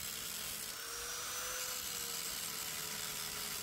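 A local-brand angle grinder with a polishing disc pressed against iron gives off a loud, steady, high-pitched whine with a harsh grinding hiss, held constant and close throughout with no talking.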